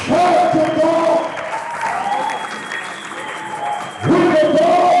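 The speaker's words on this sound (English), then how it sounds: "Somebody clap your hands to God, all you people." A church congregation claps hands together during a lively worship service, a loud, steady wash of applause that dips briefly in the middle before swelling back up, with a voice carrying over it.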